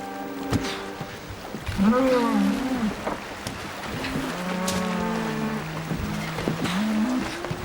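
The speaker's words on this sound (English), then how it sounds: "Can't you hear those cattle bellowing?" Cattle bellow and moo in long, drawn-out calls, several overlapping, loud and fairly near over an outdoor background.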